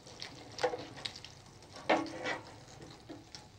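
A monkfish fillet fries in a pan of butter and olive oil, giving a quiet, steady sizzle broken by a few soft clinks and stirring sounds.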